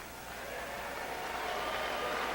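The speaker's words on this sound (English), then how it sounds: "let's have a very nice round of applause for the commissioner in charge, Marlene Cummings" Boxing event audience applauding the commissioner in charge before the first fight, a soft, fairly distant wash of clapping that builds gently over a couple of seconds.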